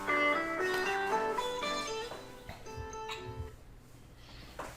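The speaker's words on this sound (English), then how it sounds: "Was that our speaker? No, that was my alarm." A kitchen alarm, set while bread bakes in the oven, plays a bright, melodic run of ringing tones that starts loud and close, then fades and thins over a few seconds.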